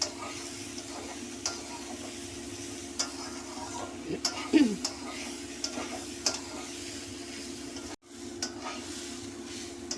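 Spices sautéing in a pan for a rainy-day dish give a low, steady sizzle with occasional stirring scrapes and clinks, one sharper scrape near the middle and a brief break before the sizzle resumes.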